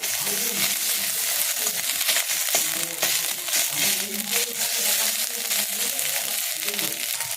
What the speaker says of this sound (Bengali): এই আদাটাকে একটু ভালো করে ভেজে নিতে হবে।